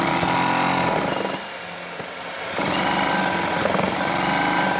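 A Hilti Nuron cordless breaker hammer works under light pressure, its rapid hammering chatter running loudly, pausing briefly in the middle, then resuming at full intensity.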